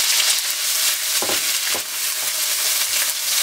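Onions sizzling in a hot pan with ginger paste while chicken is being cooked, a steady loud frying hiss throughout with a few soft stirring scrapes, no voices.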